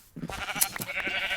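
A sheep in Minecraft bleats briefly, a short wavering cry that sounds nearby, with faint background noise.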